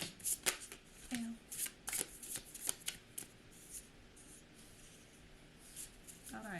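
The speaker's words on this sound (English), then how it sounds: "we are going to ask for 3 more shuffle through" A deck of tarot cards is shuffled close up during a reading, with quick crisp riffles and slaps in bursts that thin out toward the end, under a faint murmur of voice.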